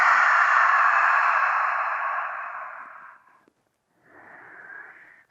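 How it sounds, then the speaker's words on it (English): A person breathes out through the mouth in a long, breathy exhale that gradually fades over about three seconds, then after a short silence a second, softer exhale follows, close and alone, during a gentle grief yoga flow. "just exhale out through the mouth"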